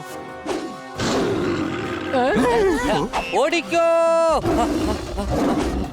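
Loud, drawn-out roaring from a tiger in a cartoon jungle rises and falls several times, mixed with shouting voices and crashing noises.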